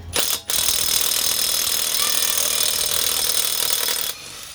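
A Milwaukee 2860-20 impact wrench runs in reverse to loosen lug nuts, giving a loud, continuous buzzing hammer that starts after a brief stutter and holds steady for about four seconds before cutting off.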